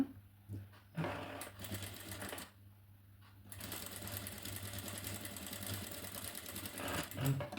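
A sewing machine stitches a fabric tag piece for a blouse, with quiet handling at first, then a steady fast close mechanical whir of stitching.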